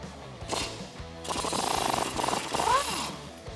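A ratchet wrench with an 18mm deep socket turns the strut nuts at the lower control arm of a Ford F150, close rapid clicking bursts with some metallic clatter and no talking.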